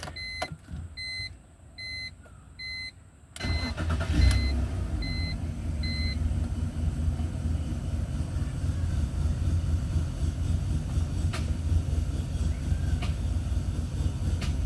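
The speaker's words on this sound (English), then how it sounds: "Brand new spark plug, still misfire." A 2004 BMW E46 engine idling with a misfire after a new spark plug, a steady, rough, close running drone that starts after a few seconds of electronic chimes.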